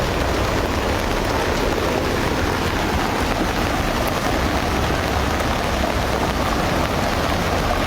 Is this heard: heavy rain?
yes